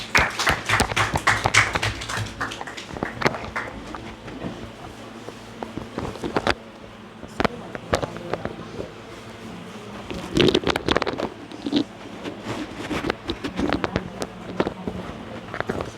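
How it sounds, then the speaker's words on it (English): An audience claps for a young boy, Master Yash, on stage: bursts of sharp, uneven hand claps come in waves, dying down briefly and then swelling again, fairly close and lively. "Please clap for him."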